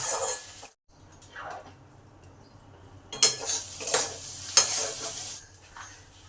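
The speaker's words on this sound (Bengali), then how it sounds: "পটলের পেস্ট এটাকে দিয়ে দিলাম এবার এটাকে ভালো করে নেড়ে নেড়ে পুরো শুকনো শুকনো করে নিতে হবে" Pointed gourd paste being stirred in a pan until it dries, with a light sizzle, intermittent scraping strokes and metallic clinks of the spoon against the pan, close and fairly quiet, with brief pauses. No speech.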